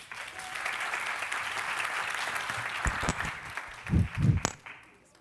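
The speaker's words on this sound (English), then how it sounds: "Please give them another round of applause." An audience in a theater applauds at an arts event as a program segment ends. The clapping is steady and sustained, then a few louder close claps and thumps stand out near the end as it fades.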